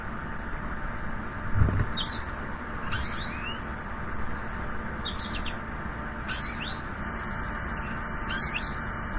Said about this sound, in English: I love goldfinch song